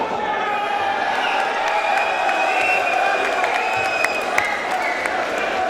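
Crowd at a boxing fight night cheering and applauding, a dense continuous roar with whoops and claps heard from within the venue, steady throughout with voices blended into the noise.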